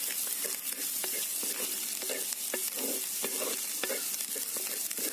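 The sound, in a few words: stirring and sautéing with salt in a stone pot (kalchatti)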